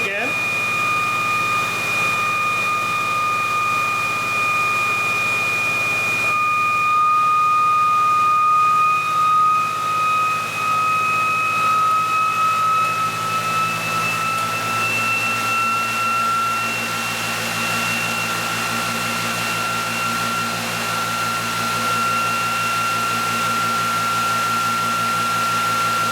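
A green induction motor drive system whines steadily with a tonal hum that shifts upward as it speeds up, close and continuous, with speech faintly underneath.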